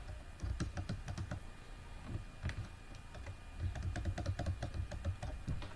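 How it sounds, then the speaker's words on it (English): Rapid, steady keystrokes on a computer keyboard while entering spreadsheet data, with continuous close clicking in bursts and a single louder key press near the middle. "we will press enter key."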